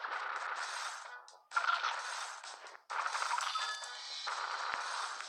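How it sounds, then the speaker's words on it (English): Cat cannon firing in the Battle Cats video game: a dense, continuous burst of game-effect blasts and clatter, broken by two brief gaps, loud and close, with no talk over it. "Fire the cat cannon."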